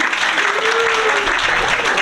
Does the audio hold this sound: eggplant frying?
no